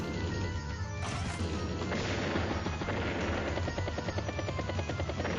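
Artillery fires in the video game Advance Wars: Days of Ruin, heavy booming crashes and blasts that overlap in a dense, loud burst of game combat sound.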